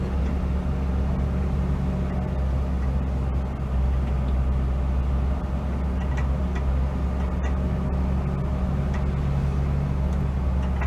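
The engine of a 1975 Mitsubishi Colt 1400 Delica minibus drones steadily as the van pulls away. The low rumble is continuous and close, with no one talking.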